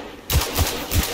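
Gunfire in the Destiny 2 video game, three heavy, booming shots in a quick even rhythm, loud and close, no talk.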